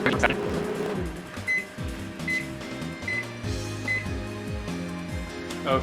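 A microwave oven cooking sweet and sour burgers gives a string of short, evenly spaced keypad beeps over a low running hum and mechanical whirring, with no talk.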